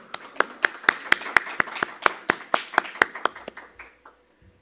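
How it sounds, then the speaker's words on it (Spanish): A small audience at an architecture lecture claps to welcome the architect, a sparse run of distinct, fairly loud hand claps in an uneven rhythm that thins out and stops near the end. "Un fuerte aplauso, por favor"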